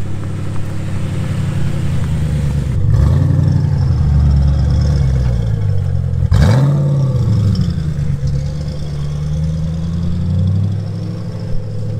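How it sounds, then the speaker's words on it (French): An Audi RS5 engine idles with a deep rumble, then revs hard twice in sharp bursts, close and loud, with no voices. "Alors ici RS5 qui fait un bruit d'enfer,"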